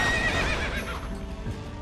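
A horse in the action video game Warriors Orochi 3 gives a loud, close whinny over hoof clip-clops and battle noise, lasting under two seconds.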